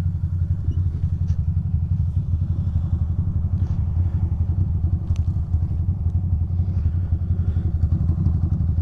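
A parked motorcycle idles on a town main street, its engine putting out a steady low, loud rumble with an even pulsing beat and a few faint clicks and clatters over the top.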